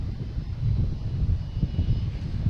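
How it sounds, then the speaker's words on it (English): A JetBlue Airbus A220 jet takes off at Boston Logan, its engines giving a loud, close, rumbling low roar that pulses slightly but stays continuous for the whole stretch, no talking. "we have a JetBlue taking off, heading to Fort Myers."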